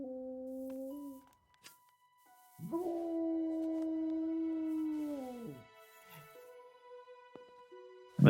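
A dog in the medieval video game Kingdom Come Deliverance lets out a long, sustained mournful howl, preceded by shorter whining notes and followed by quieter whimpering over faint ambient tones.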